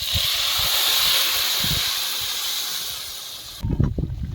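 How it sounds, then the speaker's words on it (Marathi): Goat tripe added to a hot pan gives a loud, steady steamy hiss that slowly fades over several seconds, followed near the end by a burst of close clattering and stirring in the pan. "हा बकऱ्याची वजडी आहे हे आम्ही ॲड करणार आहे"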